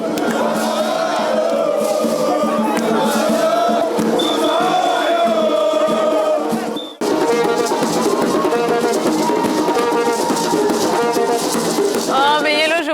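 A large crowd cheers and chants loudly in celebration as the Ivorian basketball team is welcomed, with whoops, shouts and rhythmic singing continuing throughout.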